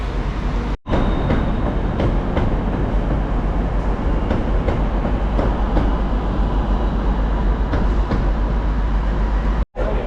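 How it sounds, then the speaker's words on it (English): Loud, steady rail rumble with faint rhythmic clacks running throughout, like a train moving through a busy station, at the forecourt of Manchester Piccadilly station; no voices. "this is the forecourt of Manchester Piccadilly train station."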